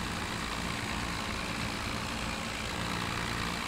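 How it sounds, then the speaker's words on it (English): A tractor engine in Farming Simulator 17 hauls a loaded trailer in spring, giving a constant, close, droning rumble that stays even and unbroken throughout. "I'm happy this trailer can be pulled quite nicely by this tractor"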